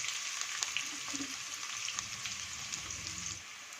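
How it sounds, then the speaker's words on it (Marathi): Two finely chopped medium onions fry in a pan, giving a steady, soft crackling sizzle that runs continuously throughout with faint scattered pops. "आपला कांदा छान असं परतून झालं"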